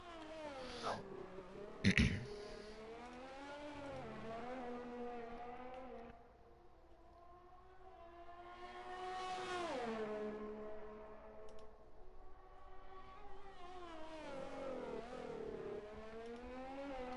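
A Ferrari race car engine in a racing game, on a lap at Austria, revs and shifts up and down through the gears, heard clearly but moderately quiet, with a sharp clunk near the start.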